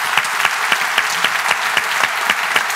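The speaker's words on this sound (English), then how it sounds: "can we give our paper speakers a round of applause?" Audience clapping steadily, a dense round of applause from a crowd, loud and continuous with no speech.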